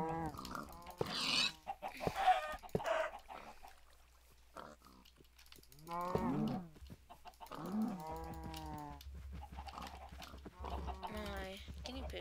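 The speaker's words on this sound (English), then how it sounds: "My guinea pigs." Pet guinea pigs squeal in several loud, high, wavering bursts, spaced apart by quiet gaps, with a low hum underneath and some human voice in between.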